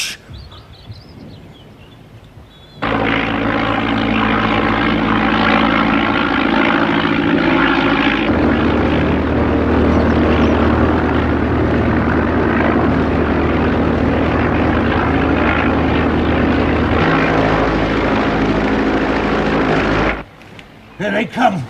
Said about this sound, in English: There are aeroplanes.